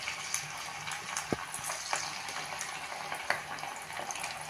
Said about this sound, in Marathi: तेल तापलेलं आहे, आता आपण पकोडे त्यात सोडूया।